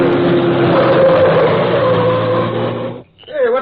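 A car speeds out of a long drive toward the street in an old radio drama, a loud sustained engine roar that cuts off abruptly, followed by a brief start of a voice.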